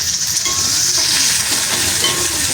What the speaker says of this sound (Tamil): போட்டு நல்ல வடிவாக வதக்குவோம்